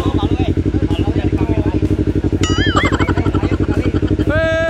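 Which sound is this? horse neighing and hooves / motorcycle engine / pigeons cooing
motorcycle engine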